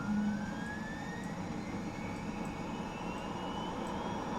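Jet engine spooling up during a start relight in a flight simulator game, a steady faint rumbling whine with a slowly rising tone beneath constant background hum, distant and continuous.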